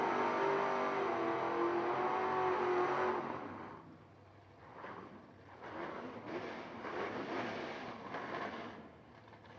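A 1971 Plymouth Barracuda drag race car runs at a radial drag racing event, its engine roaring loud and far for about three seconds before dropping away. Quieter, distant engine surges and murmuring track noise follow.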